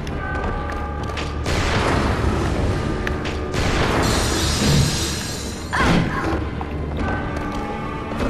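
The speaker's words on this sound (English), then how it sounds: "she knows the cannon is no joke" Cannon fire in the video game Bloodborne: heavy booming blasts with crashing, shattering debris, several loud bursts spread across the stretch over a constant rumbling game background.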